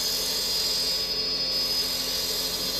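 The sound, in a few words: sharpening a woodturning spindle gouge on a grinder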